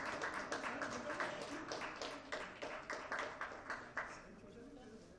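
Audience applause at a Kashmir Premier League signing ceremony as Shahid Afridi is presented a shirt; a steady patter of clapping runs throughout, moderately close, with an announcer's voice heard over it.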